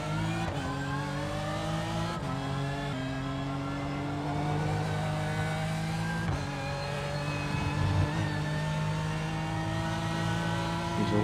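Race car engine in the iRacing sim, a loud continuous high-revving drone with rising and falling pitch through gear changes and a few brief dips as it lifts off and downshifts.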